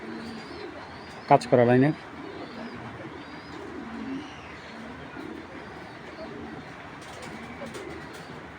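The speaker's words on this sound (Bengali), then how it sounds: "গেম খেলার কবুতর" Giribaz game pigeons of old-line breeding coo softly in low, recurring murmurs throughout, with a brief louder call near the start and someone talking over them.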